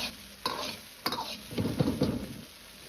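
Tofu with shiitake mushrooms and chopped chili peppers is stirred in a pan after starch slurry goes in to thicken the sauce. Sizzling and frying run underneath several bursts of scraping and stirring, growing denser toward the end, with no voices.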